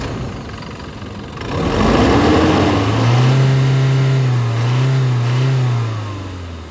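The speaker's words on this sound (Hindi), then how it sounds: "यानी हाईवे पर यह गाड़ी जब घुर्रा कर निकलती है ना तो साइड अपने आप मिल जाती है।" A Toyota Fortuner Legender 2.8-litre diesel revs hard, the engine rising from a steady drone into a loud, swelling growl that holds and wavers for several seconds, close and alone with no talk.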